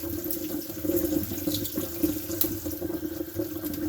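Tap water streams steadily from a faucet into a sink as a peeled hard-boiled egg is rinsed under it, a close, continuous splashing hiss.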